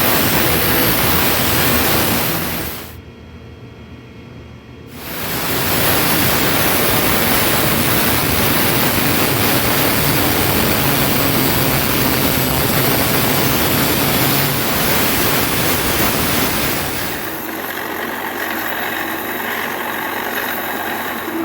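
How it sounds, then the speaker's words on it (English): Metabo cutting blade slicing small metal tongs off a welded steel tool, a loud, harsh grinding hiss that stops briefly, starts again for a long steady cut, then tapers to a lower whir. "with this Metabo blade, I'm actually going to cut that mark right there, and I'm going to cut these little tongs off"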